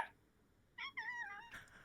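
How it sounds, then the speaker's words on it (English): A pet cat meows on cue indoors, one drawn-out, wavering meow followed by a shorter one, fairly close and soft, with no talking over it. "she meows on cue"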